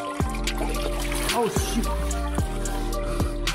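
Coolant trickles and splashes out of a Subaru Outback EZ30 engine in a steady close stream, with a few louder drips and spatters, and a voice briefly exclaims partway through.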